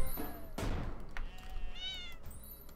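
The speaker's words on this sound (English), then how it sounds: "Wait, let me get out the cats." Cats meow in the video game Fowl Space, a few short cartoonish meows rising and falling amid other game effects, clear and fairly close.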